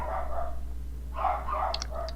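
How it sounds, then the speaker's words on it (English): Dogs bark in a house in the background, several sharp yips and barks in two bursts over a steady low hum, somewhat distant. "I've got dogs barking in the background"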